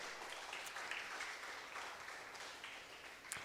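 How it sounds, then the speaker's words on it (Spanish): Steady applause from a church congregation, a continuous wash of clapping at moderate level with no voices over it. "Dale un aplauso al Señor, por favor."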